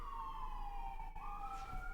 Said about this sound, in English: There's a lot of sirens.